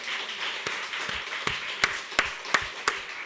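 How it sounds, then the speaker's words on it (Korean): A church congregation claps during a sermon: soft scattered hand claps under a murmur, then a series of sharper, evenly spaced loud claps punctuating the second half. "박수를 최대한 쳐야 됩니다."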